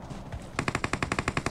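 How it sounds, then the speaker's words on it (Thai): Rapid automatic gunfire in the mobile battle royale game PUBG Mobile, a steady burst of evenly spaced shots after a quiet lead-in, moderately distant and alone. "มีเสียงปืน"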